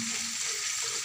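Spice paste with green chilies fries in a pan for a vegetarian soybean curry, giving a close, steady, even sizzle that runs through the whole moment.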